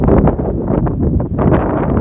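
Gusty wind roars across the microphone, rising and falling in uneven surges of low rumble.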